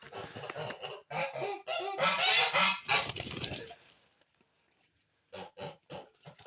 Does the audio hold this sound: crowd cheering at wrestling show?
no